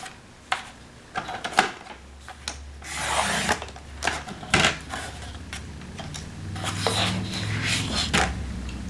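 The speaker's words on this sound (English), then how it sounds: "So I'm going to first trim the ID strip off of this." A paper design being trimmed with a paper trimmer for a Christmas folio, giving scattered rubbing, rasping and sliding strokes with a few sharp clicks, close and fairly quiet, no talking.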